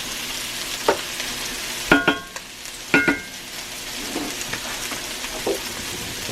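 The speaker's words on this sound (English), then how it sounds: "The sausage is cooking up nicely." Sausage fries in a cast iron pan with a steady soft sizzle, broken by several sharp knocks and scrapes of a utensil against the pan.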